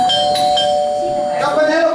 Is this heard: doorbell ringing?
yes